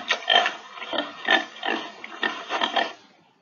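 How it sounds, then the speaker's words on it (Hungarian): A pig grunting repeatedly in a Hungarian children's farm-animal lesson, giving a steady string of short, nasal oinks about every third of a second, close and clear with no voices. "Röfög."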